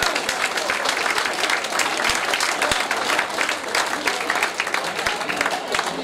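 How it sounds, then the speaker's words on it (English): Crowd at a boxing event claps steadily, a dense, loud wash of applause running throughout with a few sharper individual claps standing out. "So Craig Steffens from Trident Gym, please round of applause"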